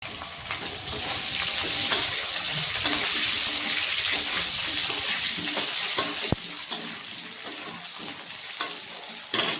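Onion frying and sizzling in a pan for a rohu fish head and pui shak curry, a loud, steady crackling hiss with scattered stirring clicks and a sharp knock near the end.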